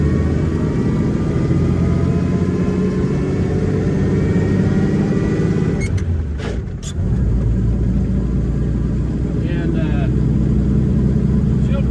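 A 1931 Chevrolet coupe with a six-cylinder engine cruises down the highway at about 50 to 55 mph, its steady engine drone and road rumble loud and continuous, briefly dipping midway before resuming.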